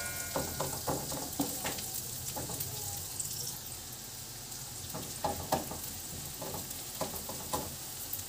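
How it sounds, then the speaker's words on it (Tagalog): Garlic and onion sizzle and crackle in hot pork oil in a pan, a steady loud fry broken by repeated knocks and scrapes of stirring, with no voices. "Igisa na natin itong bawang at sibuyas."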